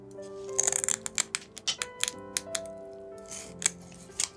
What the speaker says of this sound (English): I got a kitchen scrubby, copper scrubby, and I pulled it apart.